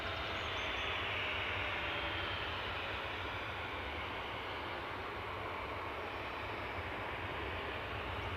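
A DHL cargo plane at Newcastle airport gives off a steady, broad roar of jet engines at moderate distance, holding an even level throughout without voices.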